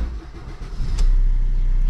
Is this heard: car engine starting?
yes